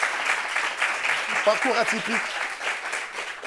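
Studio audience clapping on a French talk show, moderately close, with a person's voice speaking briefly over the clapping partway through.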